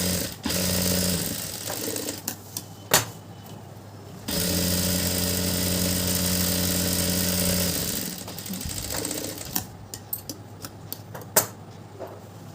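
A sewing machine stitches a seam on a pair of pants in long close runs of rapid, steady mechanical whirring, broken by a pause and a few clicks and knocks as the fabric is handled.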